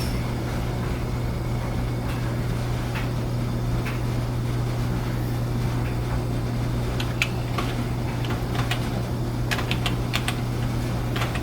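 A password typed on a laptop keyboard: a steady run of light, close key clicks over a constant low hum, with a few sharper taps near the end and no voices.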